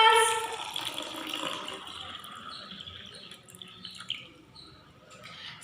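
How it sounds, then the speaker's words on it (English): Water poured from one drinking glass back into another as a children's pouring exercise, a close trickling splash that starts fuller and tapers to faint drips. "Once again transfer the water back to the glass."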